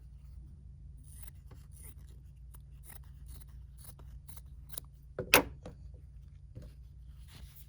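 Scissors trimming fabric at a sewing table while making a stuffed bear: faint, scattered snips over a low room hum, with one sharper, louder cut near the end.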